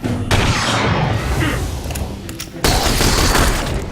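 Dense bursts of gunfire and booming impacts from The Bureau XCOM Declassified shooter game, loud and close, with rapid overlapping shots followed by a sharp new burst partway through.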